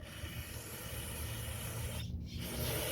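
Steady broadband hiss of air or liquid spraying through a narrow tube on a John Deere 2750 tractor's rear load control shaft, continuous for the whole stretch with a brief dip near the end.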